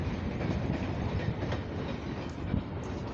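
A mixed freight and steel train rolls past a railroad crossing, a steady rumble with clickety-clack of wheels on rail joints, heard at moderate distance and continuous throughout, with no voices.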